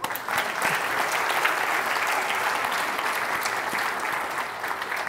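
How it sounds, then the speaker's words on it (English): An auditorium audience at a church service applauds the adults who ran a teen lock-in, a sustained, even roar of many clapping hands lasting about five seconds with no talk. "please give a round of applause to all the adults and the people who made that possible"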